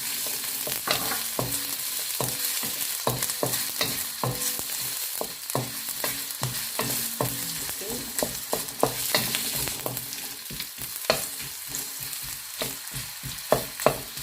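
Onions fry in olive oil as the base for pancit sotanghon with canton, with a constant low sizzle and regular spoon scrapes and taps against the pan throughout and no voices.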